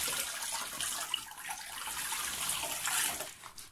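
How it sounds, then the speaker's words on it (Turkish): Water pours steadily over a newborn baby's back during a bath, a continuous close splashing wash with no talk. "Suyu yüzüne şimdi kaldır dökelim sırtına hava soğuk üşümesin."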